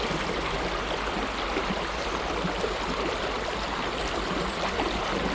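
Steady broadband rush of a fast-flowing river by a sandbar, continuous and fairly close, with no voices.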